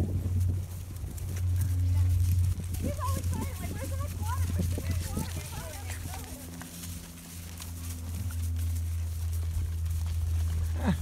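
A horse out on a pleasure ride walks along, its hooves clip-clopping faintly under close conversation as riders talk throughout.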